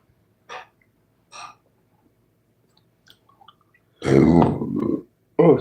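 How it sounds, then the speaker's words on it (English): A man burps twice after drinking beer, two short separate belches at close range, then a pause with faint clicks before he starts talking. "that beer's got me burping a little bit"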